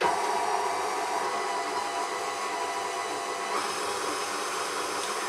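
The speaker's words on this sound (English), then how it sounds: "what I'm going to do is just turn this mixer on" An electric mixer creaming butter and sugar for a Victoria sponge whirs continuously at high speed, a dense steady roar with a slight shift in pitch partway through, close by.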